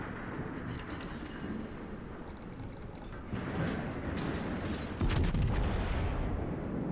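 Sovetsky Soyuz battleship main guns fire a salvo in World of Warships, a dense, loud rumbling roar of artillery that swells in two heavy steps and sustains without any voices.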